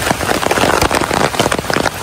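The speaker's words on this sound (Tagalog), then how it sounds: "Maulan." Steady, dense rain patters and splashes on surfaces close by, a continuous hiss with many sharp drop hits and no voices.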